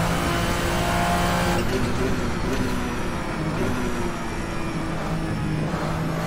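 Vendetta V60 race car in a sim racing game, its engine droning loud and steady throughout with shifting pitch as it revs and brakes, no talk over it.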